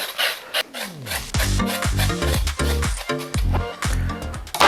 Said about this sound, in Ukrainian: Спочатку хочу трішки зачистити рульки ось таким чином.